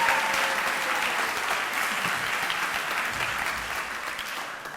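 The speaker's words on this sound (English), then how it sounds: "So can you give yourself a better round of applause?" Loud, steady applause from a crowd at a university town hall, a dense wash of clapping that holds throughout with no speech over it.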